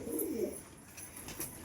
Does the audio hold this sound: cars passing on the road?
no